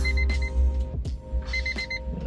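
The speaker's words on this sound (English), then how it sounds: "even the door alarm works" A Honda Civic EF door alarm chimes in repeated electronic beeps over a low idling rumble, close and clear, with a couple of short thumps and rustles between the tones.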